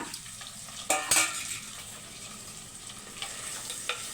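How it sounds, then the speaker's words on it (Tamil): Sliced large onions cook in a pan with whole spices and bay leaf, a soft, low sizzle broken by a few sharp utensil knocks and scrapes as they are stirred. "வெங்காயம் வந்து வதங்கிக்கிட்டே இருக்கட்டும்"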